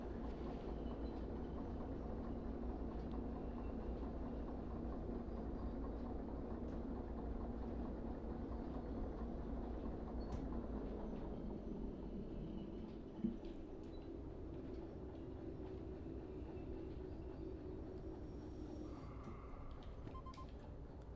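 Big train rolling on rails in the video game Derail Valley, a steady low rumble with faint rattling that holds continuously throughout, with one brief clank near the middle.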